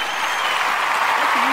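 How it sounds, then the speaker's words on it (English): Applause sound effect: steady, broad clapping noise from a crowd, held at an even level for the whole short stretch with no gaps. "I could use that as some more applause"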